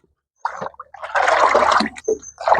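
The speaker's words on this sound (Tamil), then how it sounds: "இது நல்லா இப்படி கலந்து விடணுங்க." Water with fertilizer mixed in is stirred in a container for a terrace garden, giving close sloshing and swishing bursts that start and stop irregularly, with no talk.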